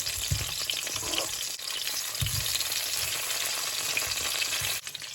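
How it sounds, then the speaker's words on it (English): Steady, loud sizzling and crackling of green plantains frying in hot oil in a pot, with occasional stirring bumps throughout. "So they're steaming down and frying nicely"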